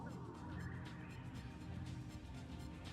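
A bird calls in the video game Sonic Adventure DX, a turkey-like gobbling chatter repeating over a dense, noisy game backdrop with no talking.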